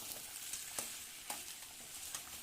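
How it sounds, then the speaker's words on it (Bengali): Marinated meat fries in a hot wok with a constant sizzling hiss, broken by periodic scraping strokes of a spatula as it is stirred, close and without talk. "ম্যারিনেট করে রাখা মাংসকে কড়াইয়ে দিয়ে দিলাম। তারপর নেড়ে চেড়ে নিলাম কিছুক্ষণের জন্য"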